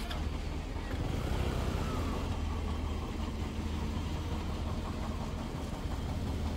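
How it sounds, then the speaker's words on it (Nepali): A JCB backhoe loader works on a rough hill road between Daunne and Dumkibas, its diesel engine rumbling in a faint, steady, continuous drone at a distance. "यतापट्टि जेसिबी रहेछ काम गर्दैछ जेसिबीले"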